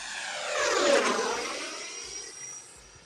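An Eflite F/A-18D RC jet with a new fan setup makes a flying pass, its ducted fan rising into a loud whoosh as it comes close, then fading with a falling pitch as it pulls away.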